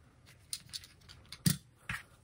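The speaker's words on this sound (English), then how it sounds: "So I'm just going to rip the seams out from around here" A seam ripper cutting through the stitched seams of a glove, giving a few short, crisp snips spaced irregularly, close and quiet, with the sharpest cut near the middle.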